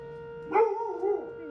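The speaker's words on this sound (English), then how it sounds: "I love when dogs howl" A dog howls in a car restoration shop, one brief rising-and-falling wavering howl, fairly close, over a steady background hum with no talking.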